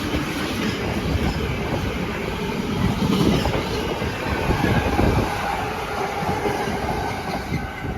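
A freight liner train hauled by class 92 locomotives 92014 and 92015 rolls past on the Manchester Airport line, a loud, continuous rumble with rhythmic wheel clatter throughout.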